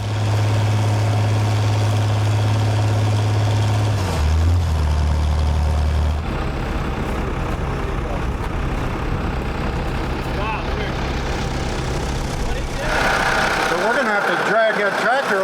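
A heavy tractor engine rumbles and idles nearby, low and steady, shifting in pitch partway through, with mechanical clanking and voices over it.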